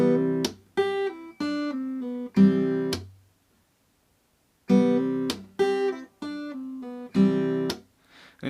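Slow acoustic guitar passage from a song: two phrases of plucked notes with hammer-ons and pull-offs, separated by a few seconds of silence, played clearly and up close with no voice over it.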